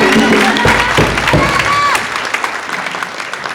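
A graduation ceremony crowd applauds the new graduates, a loud, dense round of clapping with some cheering that eases slightly toward the end.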